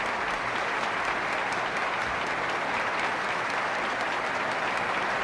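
Deputies and senators standing in the Spanish parliament applaud the king and queen at the 1978 constitution sanction ceremony, a large crowd clapping steadily and densely throughout, loud and sustained with no break.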